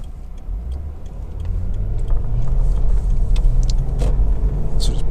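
A Lexus IS 250 2.5-litre engine hums low and smooth as the car pulls away, heard from inside, with faint ticking and a steady rising rumble.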